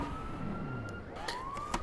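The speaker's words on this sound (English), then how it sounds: "now we go back to the sirens and the red filter." Looping alarm sirens in the Pokemon Colosseum video game, a steady wailing tone that rises and falls through the whole stretch over a constant background drone.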